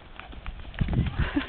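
Horse hooves thudding in a quick rhythmic lope and canter on the ground, a short run of soft beats swelling louder toward the end, with faint rider sounds behind.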